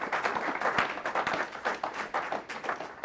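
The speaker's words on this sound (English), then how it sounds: "I would like to have a round of applause for Marty" Applause at a city meeting on a housing strategic plan, a modest round of clapping from a small gathering, fairly soft and even, continuing throughout without voices on top.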